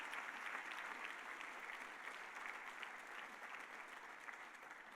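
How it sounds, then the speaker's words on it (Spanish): A church congregation applauds at a sermon, a faint, sustained patter of many hands clapping with no break, heard from some distance. "Aplauda al Señor."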